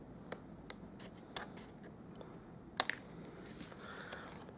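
Scissors snip through card paper while making a Stampin' Up! stained glass Christmas card, with a few sharp, quiet cuts spaced apart against a soft, still background.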